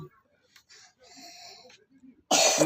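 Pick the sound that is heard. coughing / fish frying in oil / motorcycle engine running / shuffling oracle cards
coughing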